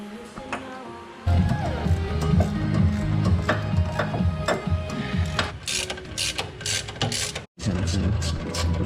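Ratcheting wrench work loosening a bolt on a Corvette during a teardown to remove the power steering rack, with repeated clicking and metallic mechanism sounds close up, continuing steadily with a brief gap near the end.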